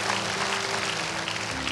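A church congregation at a Sunday service claps together in a brief, steady wash of applause, with an organ or keyboard tone sustained beneath.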